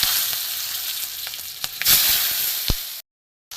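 Mango pieces, mustard seeds and dried chillies sizzle loudly in hot oil with a steady, close frying hiss and a few sharp pops before the sound cuts off abruptly.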